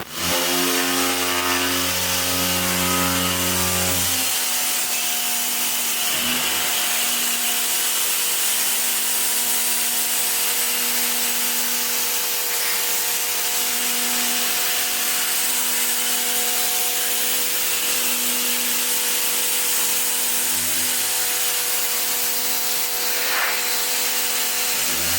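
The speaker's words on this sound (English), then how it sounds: "when he pulls the trigger, you'll hear the motor come on" Homdox 2.3 GPM electric high pressure washer motor running with the trigger pulled, a steady loud buzzing hum with a whine, after a brief lower start, continuing throughout without talk.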